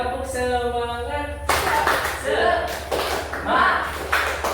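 Classroom pupils perform a rhythmic spirit clap, loud group clapping in patterned bursts mixed with taps and thumps, and a teacher's voice leads the chant over the claps.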